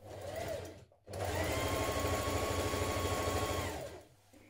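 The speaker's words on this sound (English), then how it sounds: "now we're going to stitch it to the front of our dress with a 1 centimeter seam" A sewing machine stitching a band onto the front of a shirt dress with a 1 centimeter seam: a short run of stitching, a brief pause, then a long steady whirring run that stops near the end, heard close and alone.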